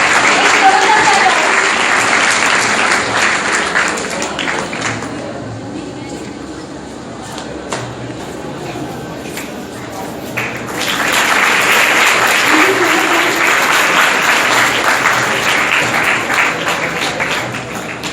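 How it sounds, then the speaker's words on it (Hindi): Loud audience applause at a 2016 certificate distribution ceremony, a sustained round of clapping that eases in the middle and then swells again into a second strong burst. "दामिनी अग्रवाल के लिए एक जोरदार ताली"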